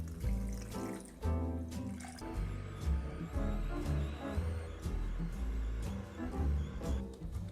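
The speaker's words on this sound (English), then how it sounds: "I like to take the coconut water and I like to pour it through the juicer to get all the other juices out" Coconut water is poured through a juicer at a cocktail bench, a steady faint trickle and fill running under a dense, humming background.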